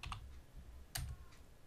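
Commands being typed on a computer keyboard during a MikroTik User Manager tutorial: a few quiet, sparse key clicks, with one sharper keystroke in the middle, close but faint.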